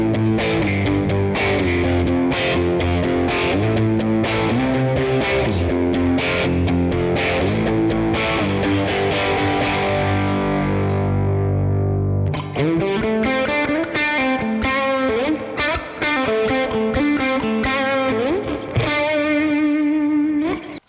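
An electric guitar, a non-Telecaster style instrument, plays with heavy distorted tone through effects, sustained chords ringing loud and dense, then shifting midway to a brighter, choppier riff, with no talking.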